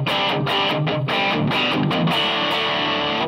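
A Cort G300 Glam electric guitar plays through distortion with both pickups on: thick, saturated chords and riffs in rapid chopped bursts, loud and close, over about three seconds with no talking.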